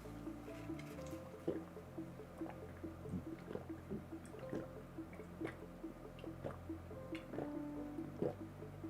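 Someone sips coconut water in small repeated gulps and wet squishy drips, soft and close, with a low hum underneath and no talking.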